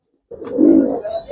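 Giribaz and coloring pigeons at a pigeon sale coo once in a soft, throaty, rolling call, close and fairly loud, heard alone without talking.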